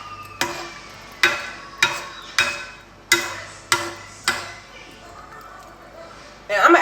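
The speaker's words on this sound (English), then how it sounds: "And I must just stir that around a little bit." A spoon stirs water in a cooking pot, striking the pot in about seven sharp, evenly spaced knocks, each followed by a short ringing decay.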